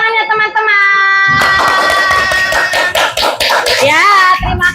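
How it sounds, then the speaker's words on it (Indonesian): Children in a classroom break into clapping after colored posters are shown, a burst of quick claps arriving after a sustained tone and continuing under loud kids' voices. "Wah, beri tepuk tangannya teman-teman."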